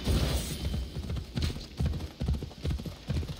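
Rhythmic clip-clop of a horse's hooves trotting steadily in the video game Assassin's Creed Odyssey, close and clear, with a faint background hum.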